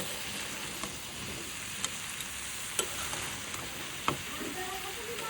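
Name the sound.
stirring and frying curry with spices in a pan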